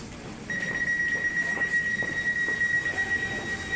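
A commuter train stands at a station, giving off a steady high-pitched whine over a low rumble of idling machinery and platform noise. No one speaks.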